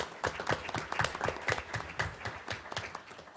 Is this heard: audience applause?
yes